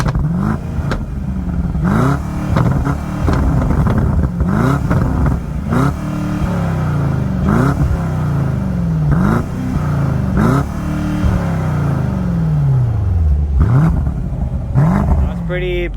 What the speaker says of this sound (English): I'll give you guys a quick exhaust clip to let you guys hear how this